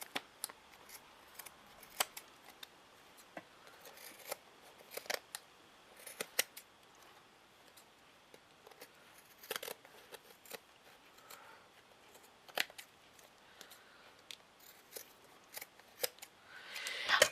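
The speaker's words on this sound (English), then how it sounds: "just snip off all the excess." Scissors snip away excess material while covering a vintage book, a quiet series of crisp, irregular cuts spread across the whole stretch, close by with no talking.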